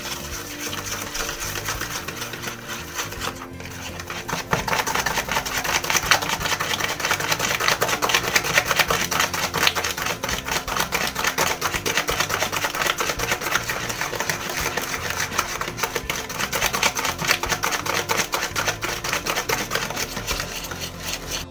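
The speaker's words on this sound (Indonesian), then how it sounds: "aku kocok keempat bahan tersebut sampai mengembang tanpa menggunakan mixer ya guys" Egg batter for a steamed marble sponge cake is beaten by hand, with no mixer, giving a steady, fast, rhythmic whisking clatter that runs continuously and fairly loud for about twenty seconds.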